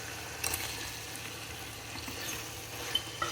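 Beans tipped into a hot frying pan during cooking of fenugreek pulao, a steady close sizzle and frying hiss with a few soft stirring knocks.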